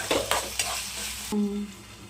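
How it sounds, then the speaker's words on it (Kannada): Tomatoes fry in a pan with a spatula scraping and stirring, then a brief metallic clink follows. A soft sizzle runs underneath, close and fairly quiet. "ಇದೆಲ್ಲ ಮೆತ್ತಗಾಗಬೇಕು, ಟೊಮೊಟೊ ಎಲ್ಲ ಮೆತ್ತಗಾಗಬೇಕು, ಆ ಥರ ಫ್ರೈ ಮಾಡ್ತೀನಿ."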